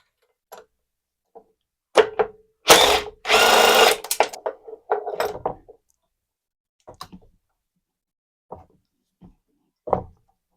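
A power drill spins bolts off the carburetor of an MTD lawnmower, running in two short, loud whirring bursts. Scattered clicks and small clatters of handled parts follow in a quiet workshop.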